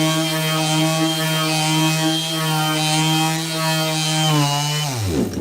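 Electric sheet sander running on a wooden cutting board, a loud steady motor hum that holds evenly and then winds down toward the end, with no talking.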